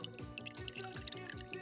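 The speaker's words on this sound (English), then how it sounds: "I turn the faucet on." Water flows from a newly installed kitchen faucet in a DIY upgrade, a faint, steady stream with a splashy, dripping texture and soft repeating pulses, no voices.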